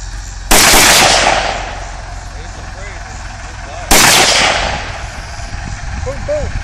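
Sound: pistol double tap, two quick gunshots

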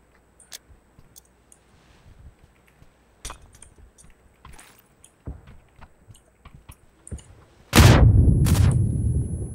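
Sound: grenade explosion in a video game shooter

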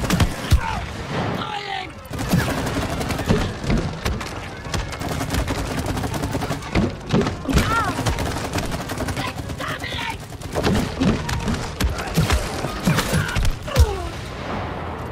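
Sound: match gun firing in the video game It Takes Two

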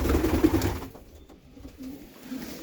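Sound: pigeons cooing in a pigeon loft

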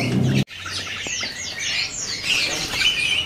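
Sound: cucak kebo bird chirping

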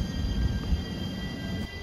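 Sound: JR Shikoku 7200 series local train running

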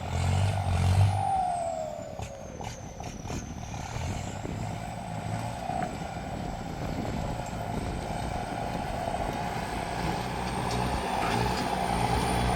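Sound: truck at a work site

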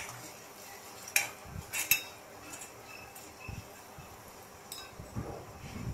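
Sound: stirring turmeric and chili powder in a pan

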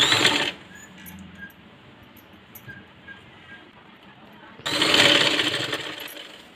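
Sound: sewing machine stitching a princess-cut blouse

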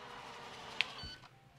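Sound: Ultenic D5s robot vacuum beep on reaching charging base

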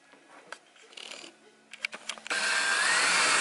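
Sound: screwdriver assembling kitchen cabinets

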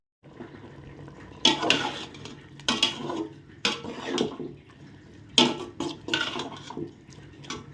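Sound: covering a pot with a plate while cooking sambar

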